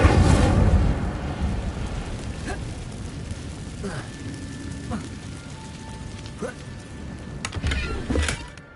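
An Incendio fire spell is cast in Hogwarts Legacy, giving a loud fiery burst and rumble at the start that fades into softer crackles, clinks and scattered effects, with a voice speaking briefly.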